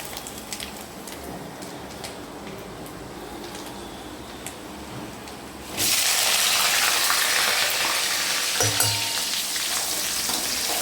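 Food frying in a generous amount of groundnut oil, with a sudden loud, steady sizzle that starts about halfway through and continues to the end over a quieter kitchen background.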